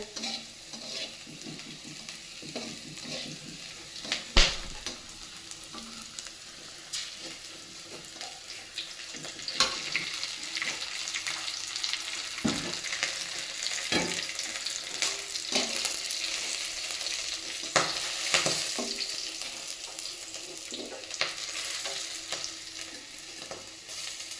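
Freshly washed leafy greens hit a hot pan and fry with a steady wet sizzle, punctuated by occasional sharp clatters and scrapes of stirring, close by and without any talking.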